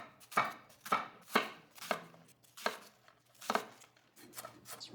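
A knife chops an onion on a cutting board in steady, close, crisp strikes, about nine sharp cuts over five seconds with no one talking.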